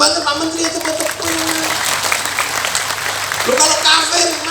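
Applause from the audience at a religious gathering, a haul and pengajian sermon, a dense steady clatter of clapping that swells near the end, with a voice speaking over it.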